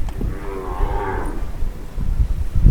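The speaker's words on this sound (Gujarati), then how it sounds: "તો આ બધી પ્યોર ગાયો ગીર ગાયો છે" Gir cattle mooing with long, low bellows over a rumbling outdoor background, one cow calling clearly near the start.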